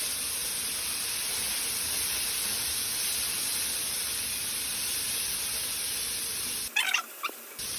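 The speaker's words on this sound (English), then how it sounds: "we're just going to let the zucchini cook" Zucchini cooks in a pan with a steady, even sizzling hiss that holds for several seconds, then gives way near the end to a brief clatter and a few sharper hissy bursts.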